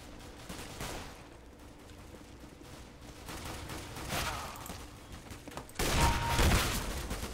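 Gunfire aimed at the player in CS:GO, scattered shots and bursts over low game noise, swelling to a louder, denser volley toward the end.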